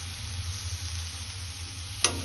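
Sweet corn and vegetables stirred in a pan, a steady low sizzle running throughout with a single sharp scrape or clatter near the end.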